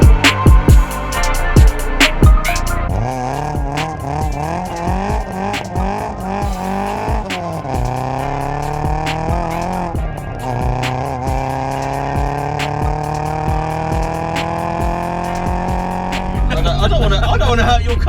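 A Cosworth-engined Mk1 Ford Escort drives steadily on a wet road, its pitch climbing and dropping through several gear changes, with tire noise and occasional clicks throughout.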